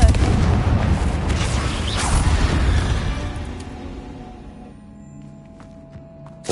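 The Confringo fire spell explodes in Hogwarts Legacy with a loud booming burst, then the crackling blast rumbles on and slowly dies away into quiet.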